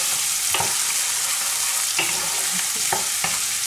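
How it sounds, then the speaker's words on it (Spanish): Onion and garlic fry in a pan with a steady, close sizzle, broken by a few sharp clicks and scrapes as the food is stirred. "Ya añadimos la cebolla para que no se nos quemen los ajos."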